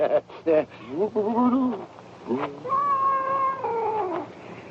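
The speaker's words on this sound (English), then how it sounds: "They ain't skunks, it's cats." Cats yowling and caterwauling near an old camp in a western film, with several drawn-out wavering cries rising and falling in pitch, fairly close and loud.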